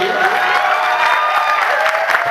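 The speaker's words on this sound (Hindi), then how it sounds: "और हमारे आर्टिस्ट के लिए जाते जाते तालियों का आशीर्वाद दीजिए" An audience applauds the artists at the close of a stage performance, a dense, steady wash of clapping mixed with crowd noise and some cheering, with tonal music or voice running underneath.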